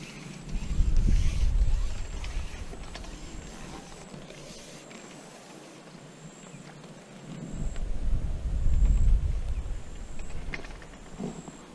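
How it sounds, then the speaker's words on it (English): Wind gusts buffet loudly at an outdoor pole-fishing spot, swelling near the start and again in the second half, with a low rumbling roar and a faint tone above. "it's getting a little bit more windy today"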